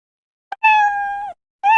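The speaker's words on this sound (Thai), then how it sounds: "เมื่อสัมผัสขอบนะครับเขาก็จะทำการสตาร์ทเสียงเมี้ยว" The Scratch cat sound effect plays as a short, clean meow, followed by the start of a second identical meow, isolated against silence.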